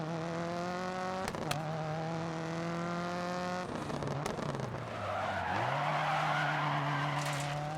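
A rally car in the video game DiRT 4 slides and skids with a loud, sustained engine drone. Tire scrub and gravel noise build as the engine pitch drops and then steadies, with no talk.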